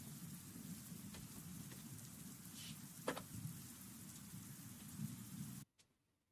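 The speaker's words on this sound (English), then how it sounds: "मैंने बारिश ही लगा रखी है आज." Steady lo-fi rain ambience played in the background, a soft continuous patter with a few faint rumbles that cuts off abruptly near the end.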